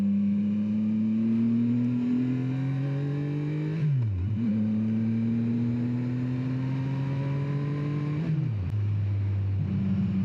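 A motorcycle engine ridden by a beginner drones loudly and close, its pitch climbing steadily, then dropping sharply twice as gears change, with a constant rumble and wind underneath.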